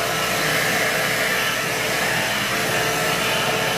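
A handheld hair dryer blows steadily and loudly at close range, a continuous broadband rush of air and motor with no pauses, used for drying hair at home.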